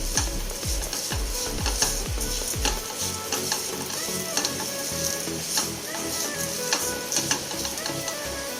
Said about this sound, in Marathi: ते जे लवंग आहे, लवंग वेलची, ते ह्या मिश्रणात घालून घेऊया आणि मिक्स करूया